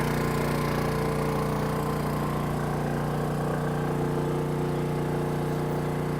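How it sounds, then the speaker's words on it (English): A Honda 2200i portable generator drones steadily in a backyard at about 70-80% load, a constant loud engine hum with no pauses or voices. "we're running a generator in the backyard for a while"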